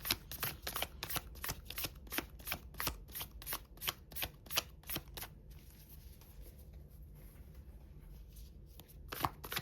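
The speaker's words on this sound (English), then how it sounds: "These cards shuffle like so nicely." Tarot cards shuffled near at hand, a long steady series of crisp riffling slaps at a brisk even pace, pausing briefly and then resuming with a few more, with no voices.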